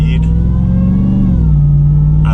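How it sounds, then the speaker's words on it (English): A 2021 Ram 1500 TRX pickup accelerates from low speed, its engine rumbling loud and close while the supercharger whine climbs steadily in pitch, with brief muffled noise at the start and end. "I love the supercharger whine"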